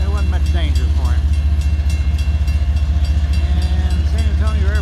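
A slow freight train rolls through a San Antonio level crossing near the airport, a loud steady rumble with squealing wheel and bell-like tones above it and faint voices underneath.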